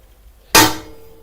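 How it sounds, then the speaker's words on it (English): A hammer strikes a straight-bladed cold chisel on copper sheet: a single sharp, loud metallic clang with a short ringing tail, alone in a quiet workshop. "To cut out the pieces, you just need the tin snips, and then a straight bladed cold chisel,"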